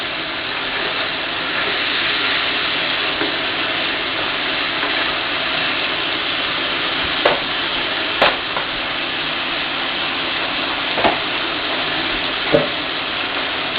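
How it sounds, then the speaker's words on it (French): Wine reducing in a pan after deglazing the filet mignon juices, a steady broadband sizzle and bubbling hiss running throughout, with a few sharp clicks of a utensil scraping the pan. "déglacez tout avec du vin. Donc vous laissez réduire un peu le vin."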